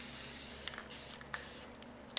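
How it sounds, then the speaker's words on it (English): Stain is sprayed onto a vintage EZ-Seat shop creeper stool in a faint, steady hiss, with a few short louder spurts and clicks over a low background hum. "So I'm going to spray it and then wipe it off."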